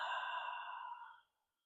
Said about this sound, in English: Taking a nice big inhale. And a full, complete exhale.